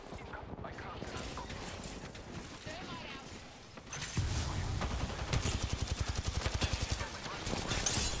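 Gunfire in the Apex Legends battle royale during a squad fight, rapid bursts of shots building to dense automatic fire in the second half, mixed with game sounds and a player talking over it.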